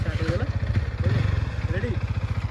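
Yamaha R15 motorcycle with modified handlebar starting and settling into a steady, pulsing idle, close and loud, with someone talking over it.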